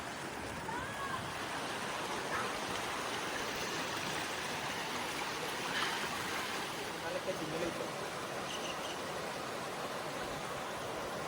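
A stream rushes in a steady, dense wash of water noise at a bathing spot where people are bathing, continuous and fairly close, with faint voices and splashes mixed in.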